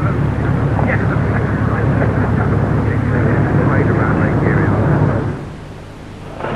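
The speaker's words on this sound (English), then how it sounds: "the five-man handling crew turn the aircraft into wind for an engine run-up" A Supermarine Spitfire's aircraft engine runs up steadily and loudly for about five seconds with a broad, rumbling roar, then drops off sharply near the end.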